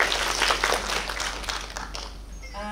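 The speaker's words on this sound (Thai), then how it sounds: "ขอเสียงปรบมือต้อนรับมิสอาร์มสตรองค่ะ" An audience of parents claps to welcome Miss Armstrong at a school online-learning introduction, brisk applause fading over a few seconds before a voice begins.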